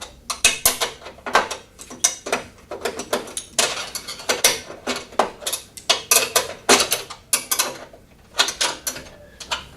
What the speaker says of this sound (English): So using a 12mm spanner, I'll just nip these ones up